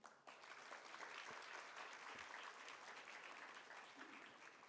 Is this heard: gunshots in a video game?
no